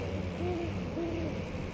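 An owl hoots outside a window in the horror game Amnesia: The Dark Descent, giving two soft, drawn-out hoots over a low, steady ambient drone.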